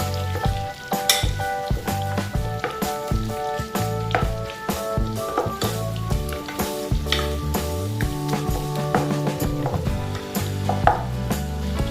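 Onions cooking in melted butter in a pan, a dense continuous sizzle with scattered clicks and scrapes from stirring, close and loud throughout.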